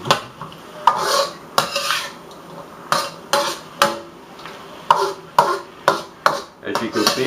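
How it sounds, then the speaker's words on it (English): Vegetables and onion are stirred around in hot oil, producing repeated close scraping and clattering strokes in an uneven rhythm over a faint sizzle. "my vegetables are starting to cook. I like to get them all swirled in the oil quite a bit"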